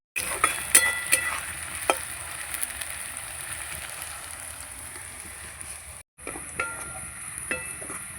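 Chopped onions frying in hot oil until crisp and brown, a steady close sizzle with occasional stirring clinks and scrapes, broken by a brief pause near the end before the sizzle resumes.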